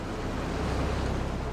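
Ocean waves and powerful currents churn through a rocky ocean inlet, a steady, loud wash of surf and rushing water with wind buffeting the microphone, continuous throughout with no voices.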